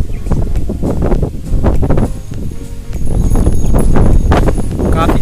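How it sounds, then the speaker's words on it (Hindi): Heavy wind buffets the microphone outdoors in a flooded village in Bihar, rough, rumbling gusts that swell louder partway through, with rustling in the background. "काफी तेज हवा है, हवा का आवाज आप बहुत ज्यादा आ रहा होगा माइक में।"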